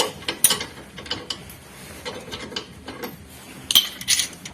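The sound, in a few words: wrench loosening Honda CR-V shock absorber bolt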